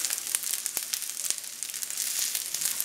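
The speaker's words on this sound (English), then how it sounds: "All right, just put the onions in," Onions sizzling in a hot, smoking pan, a dense close crackle with sharp pops and a tossing scrape, no voices.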